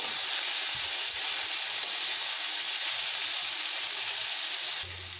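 Figs frying steadily in a pan over medium heat, a continuous even sizzle and hiss close by with faint occasional low stirring knocks, no voices.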